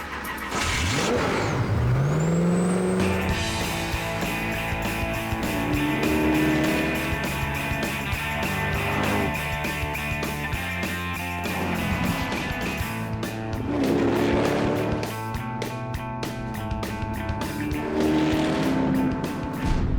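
A £380,000 car's engine fires up after a jump start from a Volvo crew bus, then revs loudly and repeatedly, its note rising and falling close by without pause.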